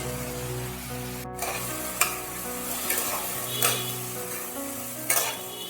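Soaked chana dal frying in a wok for a temple offering, giving a steady low sizzle with several sharp scrapes and clinks of stirring spaced through it, close and alone.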